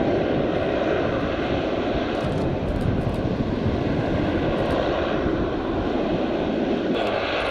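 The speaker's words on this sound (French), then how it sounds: "Cet avion a été conçu uniquement pour combattre le feu" Loud, steady drone of a Canadair CL-415 firefighting amphibious aircraft's propeller engines running continuously, with no voices, at a seaplane gathering in Biscarrosse.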